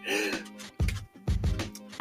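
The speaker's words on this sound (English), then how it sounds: "Let me clear my throat." Someone clears their throat several times in short, rough bursts, close to the microphone, after a brief vocal sound.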